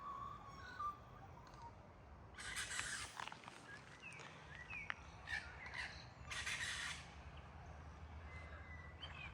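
Magpies give two harsh, raspy bursts of calling a few metres off over quiet outdoor background noise, each lasting about a second with a gap between them.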